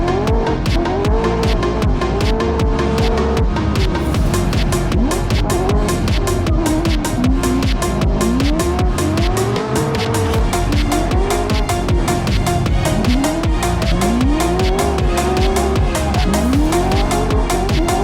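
A drift car slides through corners at a drift venue, its engine rising and falling in repeated sweeps over continuous, loud tire squeal and skidding, heard close and without a break.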